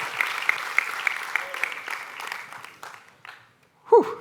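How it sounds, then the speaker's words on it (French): Audience applause fills the room at an afternoon mentalist show on AI, a steady wash of clapping that tapers off near the end before a brief loud burst of voice. "Un tonnerre d'applaudissements pour Erwan."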